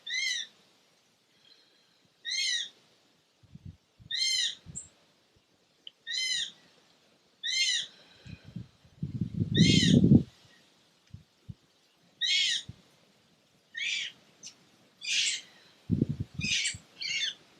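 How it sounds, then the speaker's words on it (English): Repeated bird calls ring out at even intervals, clear and fairly near, with a few soft thuds and rustles in between. "The birds where I'm at are very audible."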